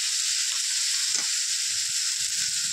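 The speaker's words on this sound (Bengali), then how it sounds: "এবার আমি পাশ দিয়ে জল ঢেলে দেবো।" Water is poured into a hot pan of fried chang fish for a Bengali fish curry, making a loud, continuous close hiss and sizzle throughout.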